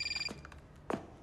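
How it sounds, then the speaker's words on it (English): Telephone ringing during a Saints Row gameplay session: a brief rapid trilling ring at the start, followed by faint voices and a short burst of talk, fairly quiet overall. "Eli, mute your fucking phone"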